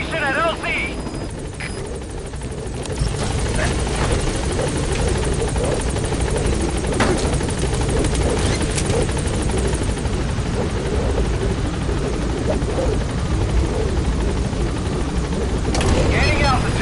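Support helicopter hovering at a landing zone in Metal Gear Solid V, a loud, steady rotor chop and engine drone throughout, with a radio voice speaking over it.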